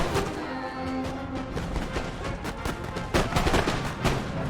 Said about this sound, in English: Canister, please. Fire at the militia.